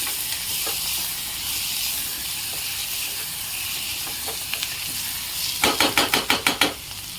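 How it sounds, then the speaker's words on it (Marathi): Ginger, garlic and cumin fry in a hot pan with a steady background sizzle, then a quick run of sharp crackling spatters near the end as the pan flares up close and loud. "हे आहे अद्रक लसूण आणि जिरं मी काप त्याला छान काढून घेतलेलं आहे तेही परतून देऊ छान"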